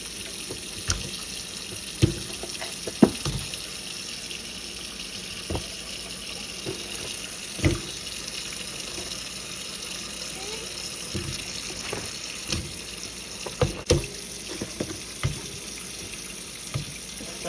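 A kitchen tap runs steadily while freshly harvested garden carrots get a light rinse in the sink, a constant close hiss of water broken by occasional clunks and splashes as the carrots are handled.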